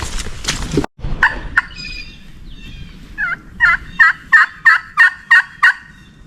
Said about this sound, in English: Already heard a gobble way back in here.